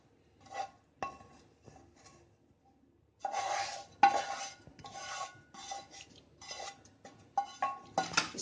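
Garlic ginger paste being stirred into amla pickle, with a spoon scraping and clinking against a metal pot or bowl in repeated bursts, quiet at first and then louder and busier.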